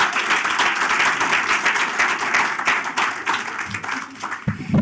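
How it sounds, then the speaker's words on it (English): Sustained crowd applause for the founder and chairman of Brand Africa at a South African brands event, a dense, steady wash of clapping that holds for several seconds before tapering, with a brief thump near the end. "Give him a massive round of applause"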